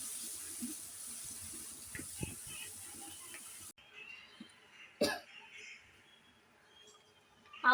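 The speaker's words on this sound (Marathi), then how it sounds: "आवश्यकतेनुसार पाणी घाला आणि मस्त असं ढवळत राहा." Water is poured into a stirred besan (gram flour) mixture for pitla, a steady watery hiss for several seconds that stops abruptly, followed by a sharp cough and scattered faint kitchen noises.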